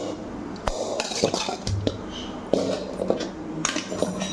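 Sautéed vegetables and greens, with cabbage, tomato, carrot and drumstick leaves, being mixed into dosa batter in a bowl. A spoon clinks and scrapes against the bowl in uneven bursts over a soft wet squish, close up.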